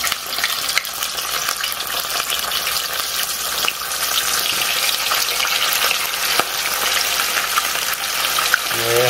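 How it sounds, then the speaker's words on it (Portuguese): Large floured piabanha fish frying in hot fat, a constant loud, close sizzle with bubbling crackle and occasional stirring clicks, with no speech. "A gente só vai fritar a piabonha maior e a menor"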